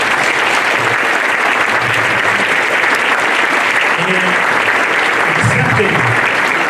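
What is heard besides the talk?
audience applause at hall of fame induction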